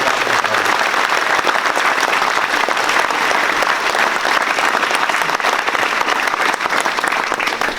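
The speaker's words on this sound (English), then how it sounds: "and just would you give them a round of applause?" Dense, steady applause from a large audience at a sheriff's event fills the room, loud and continuous throughout with no pauses.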